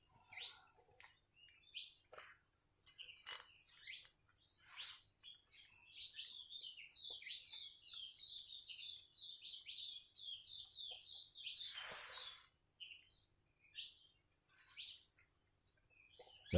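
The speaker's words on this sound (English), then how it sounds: "Just listen to the bird life." Birds chirping and trilling nearby in a quiet outdoor setting, a rapid warbling run of calls in the middle with scattered tweets before and after.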